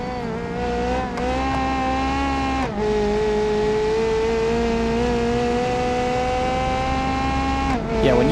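A sketchy 1990s touring car laps the Nordschleife in BeamNG, its engine droning loudly at steady high revs with a few short dips as gears shift or the throttle lifts, the tone holding near and constant throughout.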